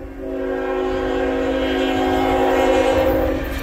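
CN freight train Q116, led by locomotive 3017, rumbles steadily past at close range at Ladysmith, a constant loud roar with a held horn-like tone running through it, ending in a sharp clunk.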